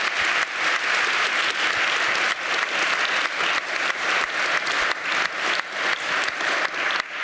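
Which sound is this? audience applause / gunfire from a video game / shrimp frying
audience applause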